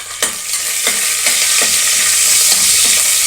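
Four or five green chillies fry in hot oil and ghee with spices, a loud continuous sizzle broken by a few stirring scrapes.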